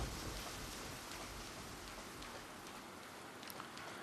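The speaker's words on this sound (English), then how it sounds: "Why is it still raining?" Steady rain from the video game Deadly Premonition, a dense even hiss of falling drops that holds at a soft, constant level with no voices.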